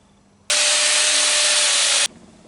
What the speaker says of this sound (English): there's a little bit of splatter, and I'm going to use my Arty mini grinder